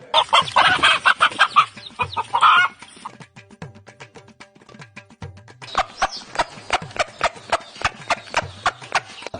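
A chicken clucks in a rapid run of sharp calls, loud and close, with a few hoof-like clops and brief pauses between bursts.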